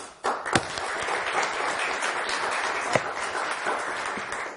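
Thin, modest applause from a studio audience at a televised Turkish word-game quiz show, a steady patter of clapping that holds at a moderate level for several seconds with a couple of sharper claps standing out.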